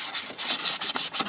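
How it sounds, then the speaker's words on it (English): Short, rapid back-and-forth rasping of 400-grit emery sandpaper rubbing rust off a snowblower's metal shaft, close and fairly loud with no talking. "with a 400 grit emery sandpaper, I'm just going to reach in and sand off the rust"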